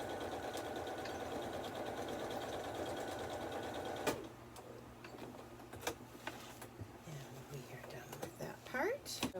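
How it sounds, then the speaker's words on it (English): A sewing machine stitches fabric for a simple sunglasses case, running in a steady close whirring buzz for about four seconds, then stopping; faint handling clicks and rustles follow. "I'm just stitching down to where I wanted the opening, and then I'm going to do some forward and back."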